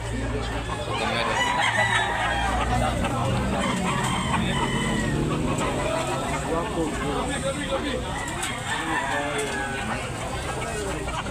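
Roosters crow and chickens cluck amid the busy hubbub of a chicken market in Tabunok, Talisay, Cebu, with people talking throughout over the continuous crowd and bird noise.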